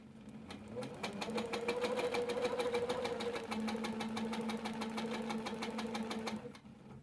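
A sewing machine runs free motion quilting on a double arch border with a ruler foot, a quick, steady train of needle strokes over a low motor hum for about six seconds before slowing to a stop.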